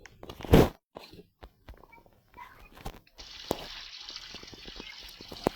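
Shower water in a home bathroom starts running about halfway through, a steady, moderately loud hiss that follows a few scattered clicks and light taps.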